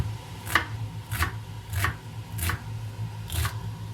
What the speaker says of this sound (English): It's not very fine chopping, but it's okay for the soup